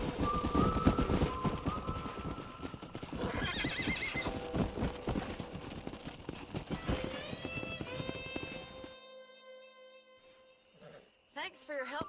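Rapid hoofbeats pound under a horse's whinny and a voice in the video game Red Dead Redemption, then the galloping fades and a short snort follows near the end.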